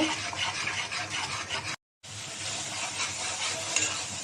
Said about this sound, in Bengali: মরিচের গুঁড়া লবণ মশলাটা আমি এখন কষিয়ে নেব